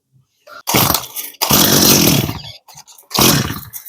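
A chainsaw engine that is hard to start sputters and revs in three short, loud bursts, cutting out between each attempt as it fails to keep running.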